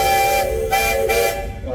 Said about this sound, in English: Let's hear that horn.